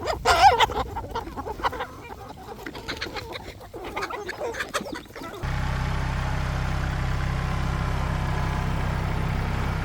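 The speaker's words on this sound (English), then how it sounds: "The chickens know that I have something." Backyard chickens cluck and chatter at close range for several seconds on a farm with a cow yard, with brief human talk mixed in, before the sound cuts to a steady low engine-like hum.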